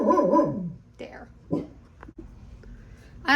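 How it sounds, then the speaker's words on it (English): A dog lets out a loud, wavering bark up close, followed by a few fainter yips and a sharp, short sound in a quiet indoor space. "I don't know who he was barking at."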